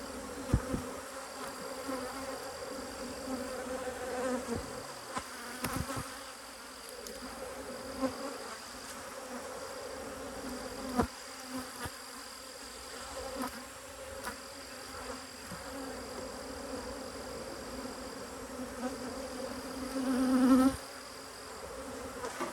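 Honeybees buzz around an open hive at Elm Grove Apiary while a bad deep box is changed and propolis is pressed between the bars: a soft, steady drone with a few close, louder passes and small knocks.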